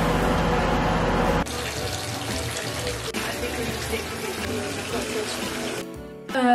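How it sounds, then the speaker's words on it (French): Running water gushes steadily from a shower or tap indoors, a loud continuous splashing hiss that shifts in tone midway and cuts off near the end. "Bon, je sors de la douche"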